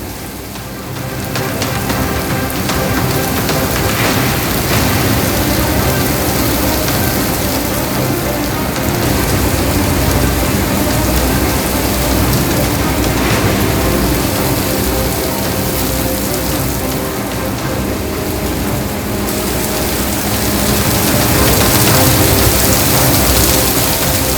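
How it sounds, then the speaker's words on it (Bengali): Heavy rain pouring steadily and loudly over Kolkata for the whole stretch, with low rumbles of thunder rolling beneath the downpour. "তুমুল ঝড় বৃষ্টি গোটা কলকাতা জুড়ে এবং সঙ্গে সঙ্গে ঘন ঘন বজ্রপাত"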